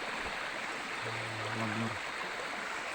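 Continuous rushing flow of the Rangan river stream in a forest, a steady broadband wash with a brief low hum partway through, no speech.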